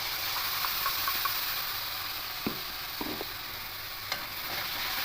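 Bitter gourd and potato fry in a pan as mustard and garlic paste go in, a steady soft sizzle with a few brief stirring scrapes and clicks.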